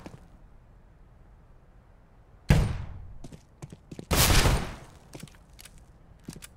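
Counter-Strike: Global Offensive gunfire rings out in the game: two loud single shots about two seconds apart, then a few faint clicks and thuds, with no voices over it.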